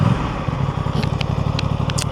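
A 2026 Aprilia Tuono 457 motorcycle idles close by with a steady pulsing engine thrum while being turned round, with a few light clicks and rattles over the top.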